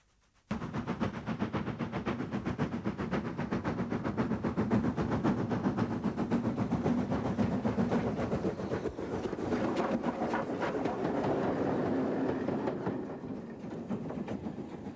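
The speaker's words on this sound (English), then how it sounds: "Today, this duty falls to War Department class number 3672, Dame Vera Lynn" War Department class 2-10-0 steam locomotive "Dame Vera Lynn" on the North Yorkshire Moors Railway, running with a continuous loud rumble and rapid rhythmic chuffing and rail clatter that starts abruptly and carries on without talking.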